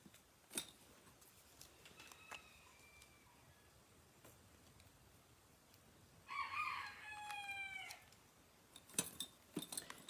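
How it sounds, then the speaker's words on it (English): A distant young rooster crows once, faint against quiet outdoor background, with a few sharp clicks and bird chirps around it. "That's that little rooster I rescued a couple of weeks ago."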